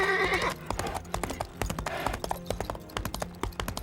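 Hooves of a newly bought horse clip-clopping, a quick irregular series of hard clicks close by, with a brief voice at the very start.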